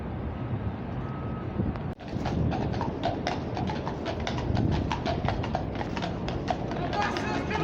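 Horses' hooves clip-clop on a New York City street at night, a steady run of sharp knocks near and fairly loud over constant traffic and street noise, with a sudden thump near the start.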